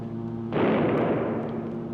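A single pistol shot as a sound effect on a Frankenstein Halloween record, one sudden loud burst that decays into a noisy rumble over a steady background hum.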